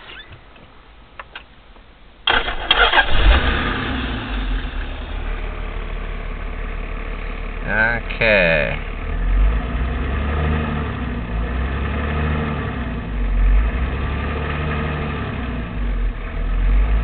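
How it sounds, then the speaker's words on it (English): After a few quiet clicks, a 1991 Toyota Land Cruiser's 1HZ diesel engine cranks and catches, settling into a steady, rumbling idle; a voice speaks briefly once. "then start the car."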